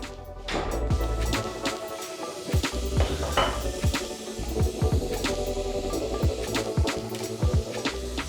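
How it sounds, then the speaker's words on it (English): Beef pasta ingredients sizzle steadily in a pan, a continuous close frying hiss broken by repeated clinks and scrapes of a utensil against the pan. "you can hear it sizzling"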